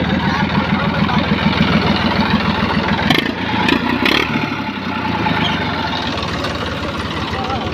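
A tractor engine chugs steadily at close range as it pulls a wire on a farm field, its low rhythmic idle-like beat loud and continuous, with a brief bump of clatter partway through.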